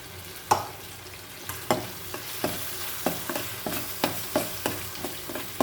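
Ground masala mixture frying in hot oil for a Marathi-style fish curry, with a steady close sizzle broken by repeated sharp stirring scrapes and clinks of a spoon against the pan.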